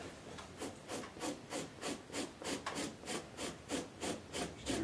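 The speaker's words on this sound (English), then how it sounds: "make sure that you could probably use some more scraping down here" Steady back-and-forth scraping of fat and meat from a beaver hide, about a dozen rhythmic rasping strokes close to the ear, fairly quiet and with no talking.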